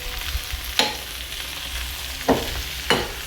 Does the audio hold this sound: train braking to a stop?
no